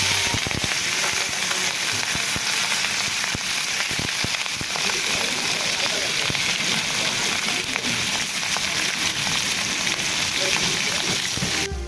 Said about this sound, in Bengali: মাছগুলো এই গরম তেলে দিয়ে ভেজে নেব